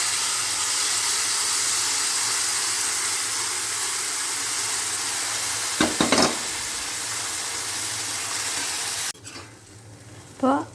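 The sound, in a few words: cooked cowpeas frying with chilli and being stirred in a pan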